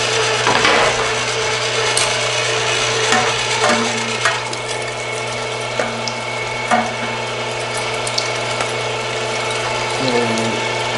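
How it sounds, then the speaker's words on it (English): A running meat grinder works through seasoned sausage meat, producing a loud, continuous mechanical grinding with rattling, ratchet-like clicks and a steady motor hum. "now we're gonna take this through the grinder"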